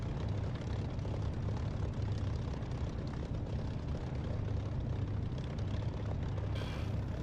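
A Spitfire's piston engine in the DCS flight simulator drones as a dense, low, continuous rumble that stays even and fairly quiet, with no other sounds over it.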